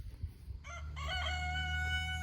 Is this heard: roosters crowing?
yes